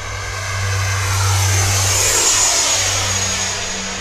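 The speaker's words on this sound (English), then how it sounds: "Let's see how agile this jet can be today." A Freewing Eurofighter v3 90mm electric ducted-fan RC jet flies past, its steady high-pitched whine loud and continuous, swelling near the middle as it passes close, with a low hum underneath.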